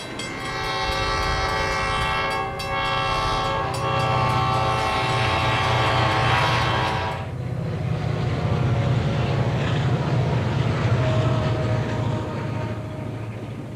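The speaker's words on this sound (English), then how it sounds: "9389 heads east through Arbuckle on the West Valley Line with a Southern Pacific Officer Special" Southern Pacific diesel locomotive hauling an Officer Special on the West Valley Line at Arbuckle in 1976 sounds a long, loud multi-tone horn, then rumbles heavily past close by as the horn cuts off and wheel and engine noise carry on.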